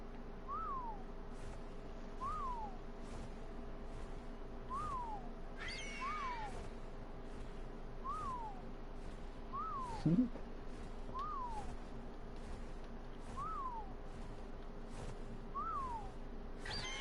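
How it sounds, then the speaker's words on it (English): Repeated whistle commands in ARK sound as short falling whistle notes, evenly spaced about every second or two and moderately loud over a steady background hum with regular ticking, plus one brief bump near the middle. "These whistle commands are pretty cool."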